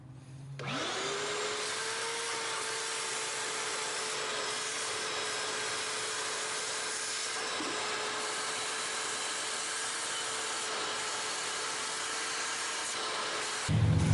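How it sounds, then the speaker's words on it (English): A shop vac runs steadily and loudly throughout, sucking stray coolant out of the head bolt holes of a Chevy 5.3 Vortec LS engine, with a constant whine and roar that starts after a moment and cuts off near the end. "just take a shop vac and vacuum it out"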